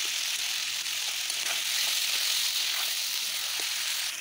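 Potato, onion and green and red chillies fry in a pan, giving a steady bright sizzle throughout with a few faint soft stirs, close up and with no talk.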